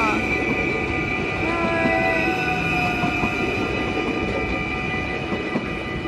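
An Arriva train runs steadily past a station in Susteren at close range, its rumbling wheels and squealing metal tones continuous throughout, with faint voices in the background.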